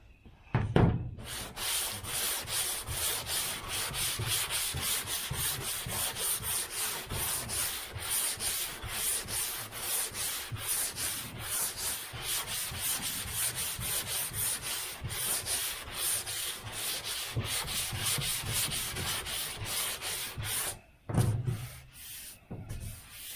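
Hand sanding with sandpaper on the body of a 1978 Chevy Nova, a steady, loud, continuous back-and-forth rasping scrub that runs unbroken for about twenty seconds before stopping.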